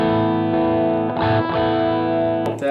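Electric guitar with mystery pickups, driven through an overdrive pedal into a Vox amp, rings out sustained distorted chords that shift midway and end in a brief strum, loud and close with no talking.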